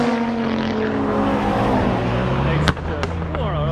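Engines roar nearby as drag cars launch from the start line, an Audi RS3 among them. The loud, rising engine tones carry on with crackling pops over a crowd, and people talk in the background.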